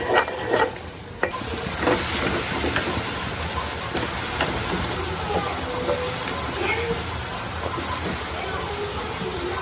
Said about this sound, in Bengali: এখানে শোল মাছ সরিষার তেল দিয়ে ভুনা করলাম